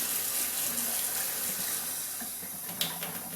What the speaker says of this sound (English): stick your hot water tap on, run it until hot water starts coming through